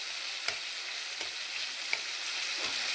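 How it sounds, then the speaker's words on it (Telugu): Tomatoes fry in oil for a tamarind chutney, giving a continuous bright sizzle with a few faint soft pops and taps over it and no voices. "టమాటాలు ఆయిల్లో బాగా వేగాలి"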